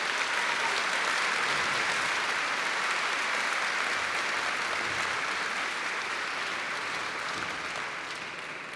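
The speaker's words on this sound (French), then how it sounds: "Je pense qu'on peut les applaudir." An audience at a youth orchestra concert claps in a steady, dense burst of applause that fills the hall for several seconds, then slowly begins to thin out.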